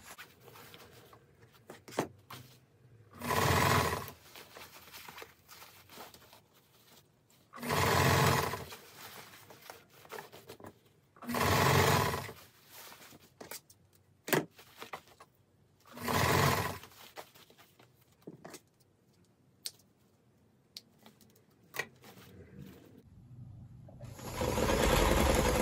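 A sewing machine zigzag-stitches decorative trim onto a purple dress in several short bursts of loud, close whirring, separated by quiet gaps filled with faint handling noises.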